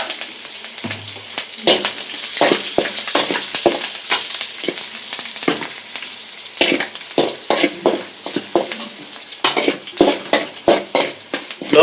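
Mustard seeds, cumin, curry leaves and chillies fry in oil, a close crackling sizzle punctuated by frequent sharp pops and spatters that grow busier toward the end, with no voices.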